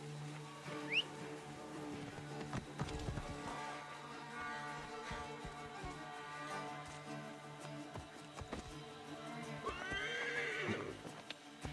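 A horse neighs and whinnies twice, with clip-clop hooves and a steady background hum throughout; the whinnies stand out clearly near the start and end, in the video game Assassin's Creed Origins.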